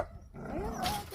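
Several dogs on a rural property with many goats give a short burst of barking and whining vocalizations, fairly close and moderately loud, with light background noise.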